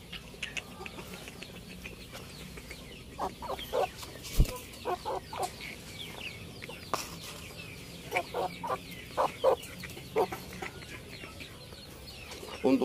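Shamo hens cluck in short repeated bursts, scattered and fairly quiet, with brief pauses between calls over a low outdoor background.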